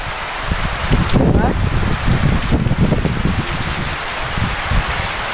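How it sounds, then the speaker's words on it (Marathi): Strong wind gusts during a heavy monsoon downpour, loud broadband roaring rain with low buffeting rumbles against the microphone, steady and close throughout. "हो किती वारा सुटलाय, बाप रे."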